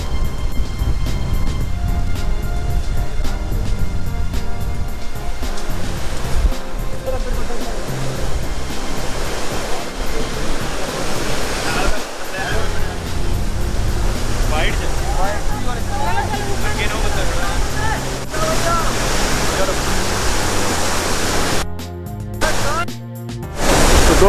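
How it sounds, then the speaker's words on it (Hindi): Loud, steady roar of a fast mountain river rushing beneath the old and new footbridges on the Gaurikund to Kedarnath trail. The close, broadband rush fills the whole clip, with a voice partly buried under it. "नदी का शोर बहुत तेज है।"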